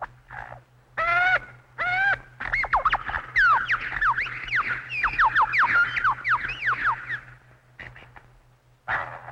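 A lyrebird calling in an Australian forest, a rapid run of loud, varied whistles, sweeping notes and chirps mimicking other birds, ringing out clearly with short gaps between phrases and a faint low hum beneath.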